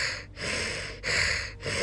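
A voice imitates a monster's heavy panting: three long, breathy, hissing gasps in a slow rhythm, close and fairly loud, with no other sound.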